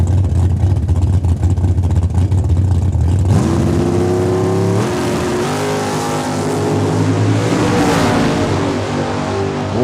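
A 1967 Camaro drag race car accelerates hard down the strip at a raceway in Saskatoon, Saskatchewan, its loud engine climbing through rising revs and gear changes, close and continuous.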